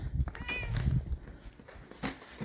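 Cats meowing at the morning feeding on a snowy farm, a couple of close, quiet meows in quick succession, the first drawn out and higher, with light handling noises around them.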